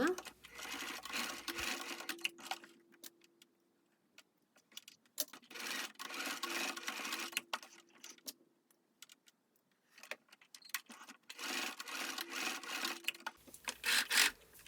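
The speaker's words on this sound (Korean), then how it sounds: "허리밴드에 봉제가 끝나면 고무줄 움직이지 말라고 양옆과 앞과 뒤의 중심선에 고정으로 스티치를 한 번씩 해줍니다." A sewing machine runs in several steady bursts separated by pauses, putting securing stitches through a leggings waistband at the side and centre seams to keep the elastic in place. The motor hum is close and moderately loud.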